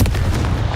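A Confringo explosive spell from Hogwarts Legacy bursts as a dense, booming blast that fills the whole short moment, loud and close with a heavy low rumble.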